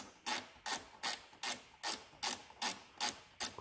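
A ratchet wrench clicks through repeated strokes on a 10 mm bolt during a Jeep winch relay job, about nine sharp, evenly spaced ratcheting bursts heard close up with no talking.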